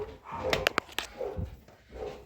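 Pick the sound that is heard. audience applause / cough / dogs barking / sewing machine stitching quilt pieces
dogs barking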